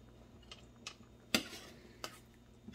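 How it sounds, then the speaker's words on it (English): A spoon stirring potato macaroni soup in a pot on the stove, with a few soft scrapes and sharper clinks against the metal, spaced irregularly and fairly quiet. "I'm giving our potato macaroni soup a stir."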